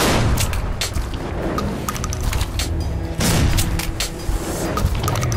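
Loud, rapid four-barrel gun gunfire in Metro: Last Light, in dense overlapping bursts, with heavy booming blasts woven through the continuous shooting.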